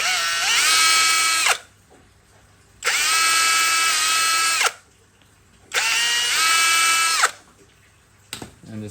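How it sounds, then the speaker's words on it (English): A power drill bores rivet holes in a tinny build, three whining bursts of about one and a half seconds each, separated by short quiet pauses, close and loud. "test that the drill bits are right size before I drill that"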